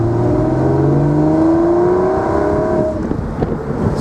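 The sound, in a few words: Porsche 911 sports exhaust while driving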